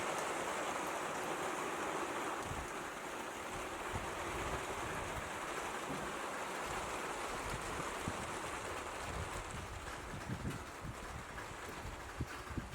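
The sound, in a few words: heavy rain pouring down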